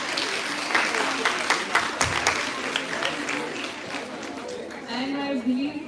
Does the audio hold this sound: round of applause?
yes